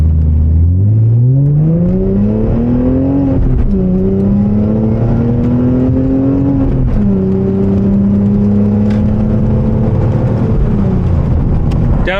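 A car engine revs up through the gears and rises again on a downshift. Its loud, close whine climbs in pitch and then settles as the gear changes, over steady road noise.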